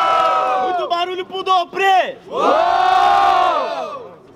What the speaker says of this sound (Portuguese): quem gostou das rimas do RZ faz muito barulho